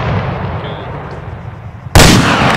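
A single loud gunshot aimed at a vehicle tire in the Arma III video game, an abrupt broadband blast near the end after a steady low rumble of engine or ambient background.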